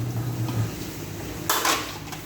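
Dishes and metal pots being washed, with a brief sharp clatter of pans knocking together near the middle, over a steady low background hiss.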